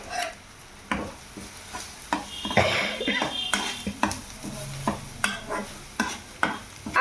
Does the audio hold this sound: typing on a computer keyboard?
no